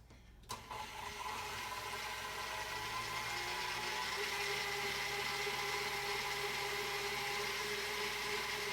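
An electric mixer whips cream for a pavlova with a continuous loud whirring drone that starts abruptly with a clunk and holds steady, with no talk.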